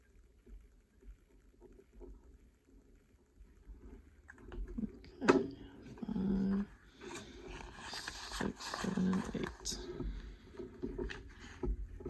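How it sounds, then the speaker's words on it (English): A neighbor woman yelling at her dogs, heard faint and distant as muffled, intermittent shouts that rise in the middle and then trail off over a quiet room background. "that would be my neighbor yelling. She yells at her dogs a lot"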